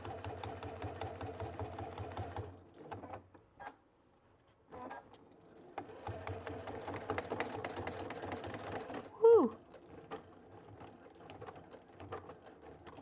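A Baby Lock Sashiko quilting machine stitches a tote bag seam in two long bursts of rapid, steady mechanical chatter split by a pause, with a short spoken interjection near the end.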